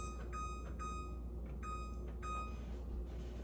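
A kitchen timer beeps in repeated short bursts, clear and steady over a low constant hum while a chicken gnocchi soup simmers.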